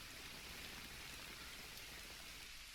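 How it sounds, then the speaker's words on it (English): Steady rain in an anime episode falls as a continuous, even hiss with faint patter throughout, with no voices. "let's go someplace to get out of the rain now."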